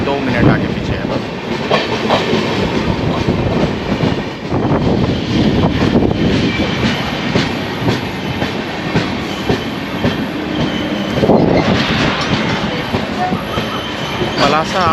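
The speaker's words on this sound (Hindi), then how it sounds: "ट्रेन अभी पलासा पहुँच चुकी है" Vishakha Express pulling into Palasa station in Andhra Pradesh, a loud, continuous rumble of wagons with clickety-clack wheels and brake squeal, busy platform noise mixed in throughout.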